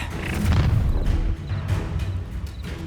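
An Incendio fire spell cast in Hogwarts Legacy bursts out in a heavy, booming whoosh, loud and close in the first second and then fading into lower rumbling combat noise.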